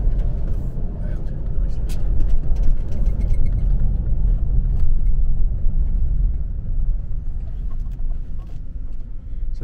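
A Lordstown Motors Beta 43 electric pickup with in-wheel motors rolls around a test track, giving a steady low rumble of tyre and road noise that stays even throughout, with faint rattles on top.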